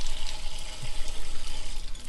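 Hotel shower water runs steadily, a continuous broadband hiss of spray with no voices over it, at a resort in Cambodia.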